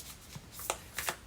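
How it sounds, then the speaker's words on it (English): Tarot cards being shuffled in quick, soft riffling bursts, a few brisk flutters over a quiet background with no voices. "3 more shuffles."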